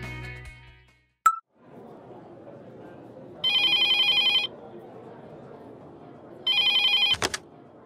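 An office telephone rings twice in a quiet room, each burst a roughly one-second electronic trill, preceded by a sharp click and ending with a brief clatter.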